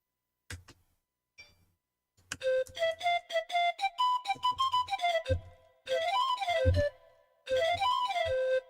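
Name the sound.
synthesized pan flute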